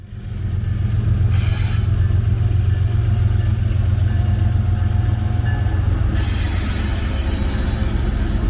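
A heavy coal train led by three locomotives rolls past close by, a loud sustained rumble and roar of engines and wheels with brief bright squeals of metal on rail.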